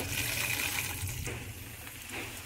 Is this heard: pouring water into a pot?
yes